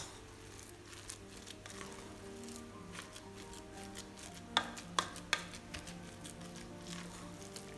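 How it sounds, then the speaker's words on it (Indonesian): A spoon stirs half-cooked rice for lontong in a pot, with soft wet scraping and a few sharp clicks against the pot near the middle, faint and close. "Nah, ini diaduk-aduk biar lemes."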